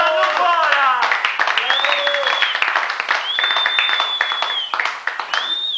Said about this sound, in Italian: Applauso, signore e signori, Zambano.